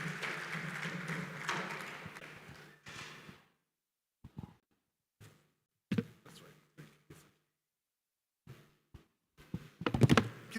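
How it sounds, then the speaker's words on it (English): Applause from an audience at a conference ceremony fills the first three seconds as a dense, steady wash of clapping over a low hum. It cuts off abruptly, leaving scattered quiet thumps and knocks in a near-silent room. "Please, another round of applause for the President."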